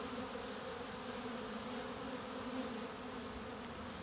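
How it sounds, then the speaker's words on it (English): Honeybees swarm around hives in an outdoor bee yard, a dense, even buzzing hum that fills the whole stretch at steady loudness without any speech. "There is just bees everywhere"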